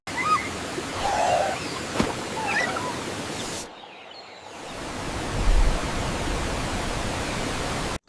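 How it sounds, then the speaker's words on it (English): A waterfall in the Amazon rainforest in a cartoon, a steady, loud, broadband rushing roar that briefly drops out midway before returning just as strong. "This waterfall is amazing!"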